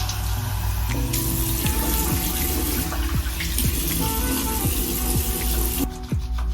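Water runs steadily from a tap in a shower as face cleanser is rinsed off, a continuous close splashing stream with soft intermittent knocks and splashes from hands, stopping abruptly near the end.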